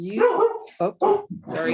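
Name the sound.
dog barking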